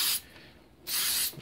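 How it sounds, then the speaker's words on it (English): Contact cleaner sprayed onto parts of a Honda XL250 motorcycle during restoration, two short close hissing bursts separated by a brief quiet pause. "it's a proper contact spray."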